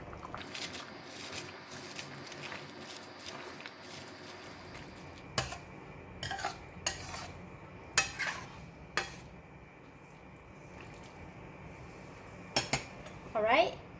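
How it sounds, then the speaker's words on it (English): A ladle stirs Thai sour chicken soup with Chinese cabbage leaves in a pot, a soft liquid swish followed by several sharp metallic clinks and scrapes against the rim, close and fairly quiet. "just put in and then give it a stir"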